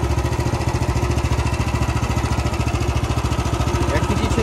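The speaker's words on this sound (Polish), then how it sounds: "Powoli puszczamy sprzęgło. Ciągnik zaczyna ruszać." A MOTOR SICH single-axle walk-behind tractor with a 13 HP engine chugs close by as it pulls away slowly in first gear, its rapid, even engine pulses loud and steady throughout.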